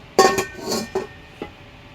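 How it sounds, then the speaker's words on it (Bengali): Rice cooker pot being washed, giving a few sharp metallic clinks and knocks of the pot against other dishes, close and fairly loud, with a faint wet scrape between them. "এই যে রাইস কুকারটা ধুয়ে দিচ্ছি এই জায়গায়"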